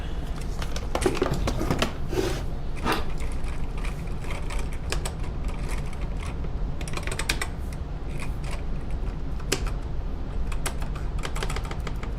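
Keys clatter on a computer keyboard hooked up to an NES-related computer project, with fast bursts of typing and pauses between them, close and fairly loud with no talk.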